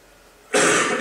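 A man gives a single short, harsh cough close to the microphone, a loud breathy burst that starts abruptly and holds briefly.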